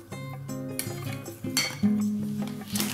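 Spoon stirring chia pudding made with homemade almond milk in a dish, with close, bright clinks of metal against the bowl and scraping sounds in a quiet kitchen.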